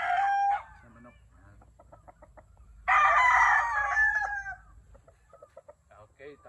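Rooster crows loudly twice amid hen clucking at a chicken coop, the first crow brief at the start and a longer one midway, with softer scattered clucks between and after.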